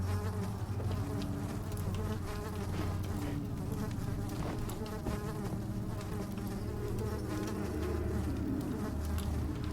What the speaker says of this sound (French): je me fais attaquer par des mouches